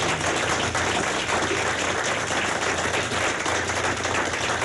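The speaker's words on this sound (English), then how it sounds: "if you would join me in giving them a great round of applause" Dense, steady applause from a large crowd at an award ceremony fills the whole stretch, a continuous roar of clapping with no pauses.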